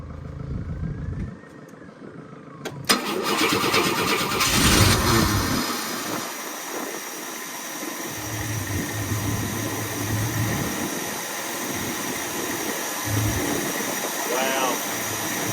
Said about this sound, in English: Let's just see if this runs and idles effortlessly.